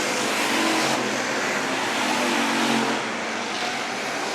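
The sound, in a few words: hobby stock race cars racing at Worthington Speedway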